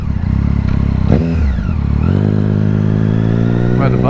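Motorcycles of a group of passing bikers heard from a rider on the road, a loud steady engine drone with revving pitch changes and a brief clatter, with talk over it.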